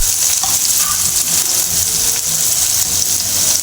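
Green chillies and small pieces of ginger sizzle loudly in a hot pan for chutney, a steady, dense frying hiss with faint scraping as the mixture is stirred, and no talking.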